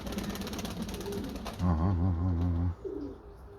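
Pigeons cooing in a low, wavering run of calls, a fairly close burst followed by a shorter coo, with rustling ambient noise throughout.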